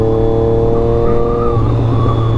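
A Triumph Daytona 675 inline-three motorcycle with a modified exhaust, accelerating in a loud, close, steady drone with strong harmonics that climb slightly in pitch toward the end; no talking.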